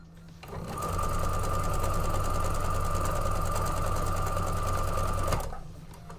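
Sewing machine stitching fabric, with the needle dull and grabbing after a jam: a loud, steady mechanical hum with a rapid knocking rhythm runs for about five seconds, then stops.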